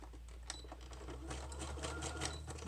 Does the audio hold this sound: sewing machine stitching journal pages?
yes